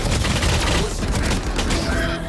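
Rapid gunfire bursts in a Valorant professional esports match, loud and dense, layered with game effects and caster commentary throughout.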